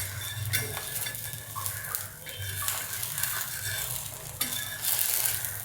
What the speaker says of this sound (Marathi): शेकू दे, पलटी करते आणि जरा शेकू दे.